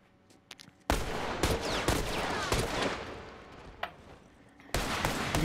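Video game gunfire bursts out loud and close as sustained rapid fire, breaks off briefly, and then starts again, with sharp single shots mixed in.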